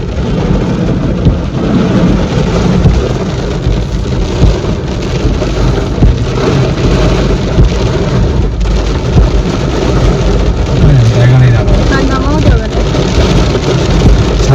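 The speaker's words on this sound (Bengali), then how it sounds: "খুব ভীষণ জোরে একেবারে ঝাঁপিয়ে বৃষ্টি নেমেছে" Heavy rain pours down in a dense, continuous roar that stays loud and unbroken throughout, with faint voices mixed underneath.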